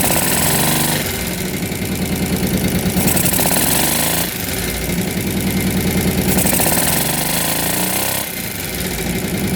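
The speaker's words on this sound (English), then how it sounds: "Let's see if we rev it up." An ATV engine revs hard and loud, surging up and dropping back in repeated cycles with a rough, rattling mechanical tone, close by and alone.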